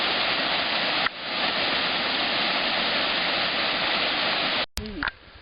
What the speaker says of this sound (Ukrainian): Ми зупинилися біля одноіменних водоспадів, буквально вони шумлять ось чути.